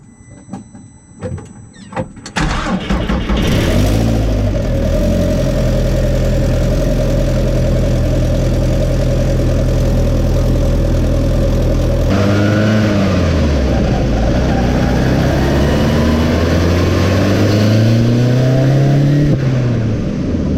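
Mk1 VW Rabbit with a turbocharged 1.8 20-valve engine on a boost pull: a loud, close engine drone climbs in pitch, drops at a gear change midway, then rises again without talk.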